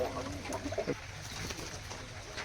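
Giribaz pigeons coo at a pigeon market in Burdwan, with soft, close, low warbling calls over a steady background hum of the market.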